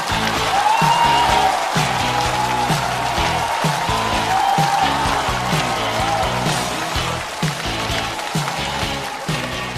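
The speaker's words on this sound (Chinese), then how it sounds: "掌声欢迎张浩哲" A live stand-up comedy show audience applauds to welcome a comedian, a loud sustained wash of clapping from a large crowd lasting several seconds, with music playing underneath.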